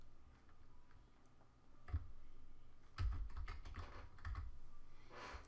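Computer keyboard typing during Adobe Illustrator CS6 work, a few scattered soft keystrokes and then a denser burst of quick clicks over low room noise, close and quiet, with no speech.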